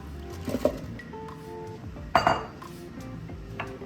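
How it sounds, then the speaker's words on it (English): Brussels sprouts dropped into a big cooking pot, giving two clattering bursts of clinks and knocks against the metal over a quiet kitchen background. "So I'm gonna go ahead and put my Brussels sprouts in"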